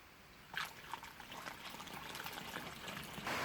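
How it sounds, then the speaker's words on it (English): Muriatic acid poured into an old Honda MR50 motorcycle fuel tank inside a garage, a steady liquid trickle and splash that swells louder near the end. "I'm just going to try putting the acid in"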